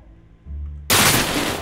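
Gunfire in a Rio roleplay video game set in the Vidigal favela: a low hum gives way to a sudden, loud, broadband burst of shots that stays sustained to the end.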